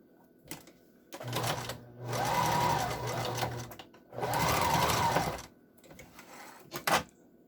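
A sewing machine stitches the parts of an N95 face mask in two sustained whirring runs with a steady mechanical drone, separated by brief pauses and followed by a few clicks and clacks close by.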